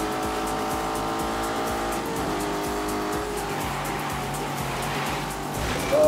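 A Lamborghini Urus running in snow mode in The Grand Tour Game, its engine droning steadily with tyre squeal and skidding noise, ending in a louder rising burst.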